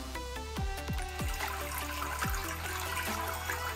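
Water from a non-electric dual-nozzle bidet sprayer gushes and splashes continuously with a bubbling, gurgling quality, a strong steady close-up spray without any talking.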